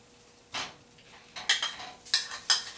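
Falafel balls for a barbecue-glazed vegan dish drop into an oiled pan, a few separate clattering knocks and scrapes against the pan with quiet gaps between them, close and fairly faint.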